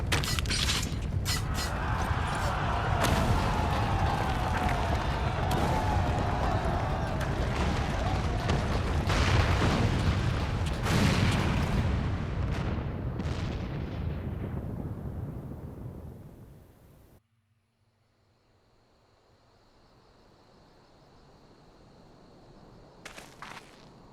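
In Final Fantasy XIV, the great imperial cannon of Castrum Abania fires and a main tower collapses, a long roaring barrage of booms, cracks and rumbling debris that fades into a low hum and a faint chime.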